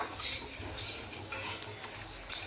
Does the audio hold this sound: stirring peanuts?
yes